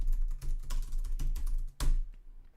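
Keys on a computer keyboard are typed in a quick, steady run of close, clattery strokes over a low hum, with one sharper, louder keystroke near the end.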